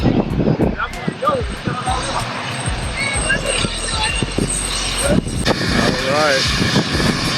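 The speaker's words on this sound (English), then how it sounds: "I'm just here waiting for the big plane behind me to take off" A large jet airliner's engines roar while the plane waits to take off beside Maho Beach in St. Maarten, a steady rumble heard behind loud, close talking from people on the beach.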